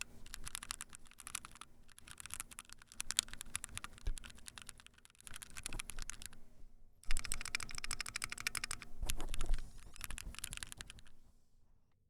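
Rapid continuous typing on a mechanical keyboard with red switches, close and clear, with bursts of clacking keystrokes separated by short pauses and no talk.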